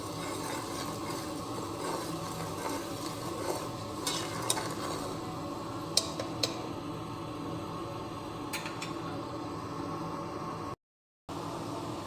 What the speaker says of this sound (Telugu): ఇవన్నీ మిక్సింగ్ కలుపుతున్నాను